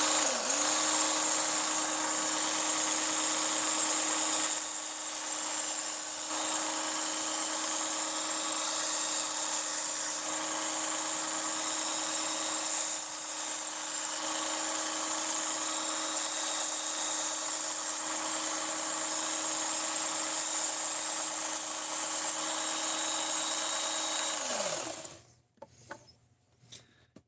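A belt grinder runs steadily as a knife is sharpened against the belt, a loud continuous whine with periodic scraping passes, then winds down and stops near the end.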